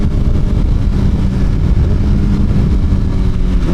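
Suzuki GSXR 1000R sport motorcycle being ridden, its engine giving a loud, continuous roar that holds fairly steady throughout with no speech over it.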